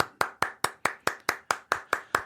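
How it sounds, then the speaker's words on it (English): A person claps their hands ten times in an even, brisk rhythm, each clap sharp and close with a brief decay, alone with no talk. "I'm going to applaud that"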